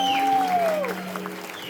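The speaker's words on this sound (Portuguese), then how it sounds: "Uma salva de palmas para eles." An audience applauds for a band at a live night show, a steady wash of clapping sitting under a bright tone that slides downward and fades.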